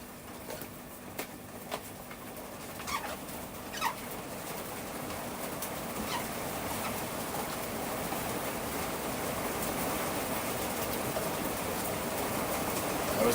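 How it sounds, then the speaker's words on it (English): Rain patters on a roof in a steady, soft hiss that gradually grows louder, while a few birds call and coo faintly near the start. "I don't know if you guys can hear the rain on the roof in the background here."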